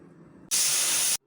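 A pressure cooker vents its steam after three whistles, releasing one loud, close, continuous hiss that cuts in suddenly, holds steady for well over half a second, then stops abruptly, with a quiet room before and after.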